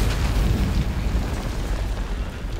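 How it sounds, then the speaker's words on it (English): A monster exploding in Monster Hunter World Iceborne: a loud, sustained booming roar of blast and rumble, heavy and close, slowly easing without any talk. "And he's exploding."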